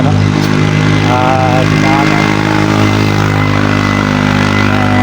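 Motorbike engine running steadily on the road while travelling toward Burias Island, a loud continuous hum with strong low harmonics and wind noise throughout the whole stretch.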